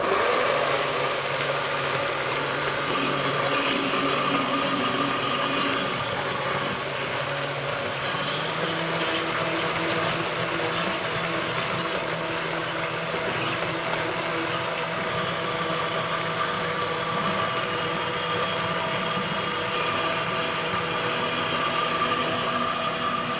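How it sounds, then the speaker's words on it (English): A kitchen blender runs continuously, whirring as it blends coconut milk, a steady loud motor drone with no talk over it. "You won't hear me because of the blender"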